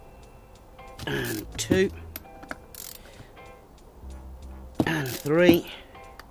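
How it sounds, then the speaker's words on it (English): A ratchet clicks in short runs while undoing bolts on a stator cover, the tight metallic ticking close by and coming between brief spoken counts. "So make sure our ratchet's going the right way."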